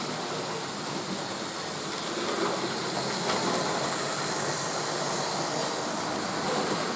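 Model high-speed train running on a canal scene layout, a steady whirring rush with hiss that holds evenly for several seconds, fairly close and alone with no talk.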